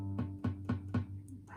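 An acoustic guitar chord, fretted with one finger touching two strings, is strummed four times at an even pace, each strum ringing briefly before the next.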